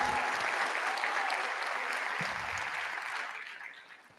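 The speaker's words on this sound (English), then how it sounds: "let us give a round of applause one more time for the president" An auditorium audience at a college forum applauds the president, a dense, steady round of clapping that holds for several seconds and then gradually fades out.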